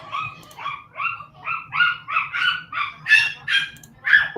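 A child imitates a dog, giving a run of about ten sharp, evenly spaced yapping barks, close and loud, with no other talk.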